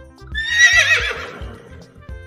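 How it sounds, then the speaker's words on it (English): A horse neighs once, a loud, shaky whinny that rises and then trails off, set over a steady rhythmic music backing. "Horse."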